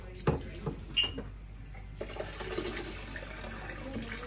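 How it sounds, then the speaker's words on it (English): Water pours and splashes from a pot of boiled saltfish into a sink, with a couple of clanks near the start and a steady running flow afterward. "So we're gonna drain this off and put some fresh boiling water in it."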